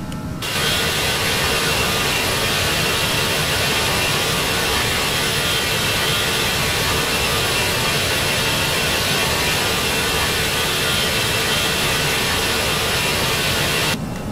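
Airbus A320 jet engines at climb thrust in a flight simulator, a loud steady broadband roar that holds at an even level from start to finish, with no voices over it.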